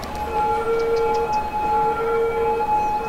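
Wailing ambulance sirens in Cities: Skylines hold steady tones over a dense rumbling background, several overlapping, loud and continuous.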